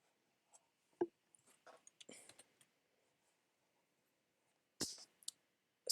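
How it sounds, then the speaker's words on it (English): A computer mouse clicks while selecting and saving in Photoshop CC 2018: a few sharp, quiet clicks spaced apart, with a clear one early on and another near the end, over faint soft background rustle. "I'm going to click select and it will save"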